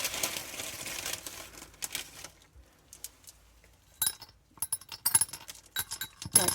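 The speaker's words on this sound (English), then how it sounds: "It's going to be a bit of a rustling noise because I put them in a paper bag for safekeeping." Light clay pebbles shift and rustle inside a paper bag, giving dry crinkling and clicking bursts, a dense stretch at first, then a quiet gap and scattered sharp rattles toward the end, close by.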